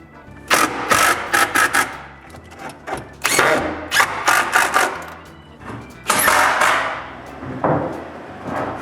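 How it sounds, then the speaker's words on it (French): Screws being driven into the top panels of a wooden miter saw cabinet, heard as several bursts of whirring drill-driver and mechanical rattling separated by short pauses, close and fairly loud with no talking. "je peux installer puis visser les dessus"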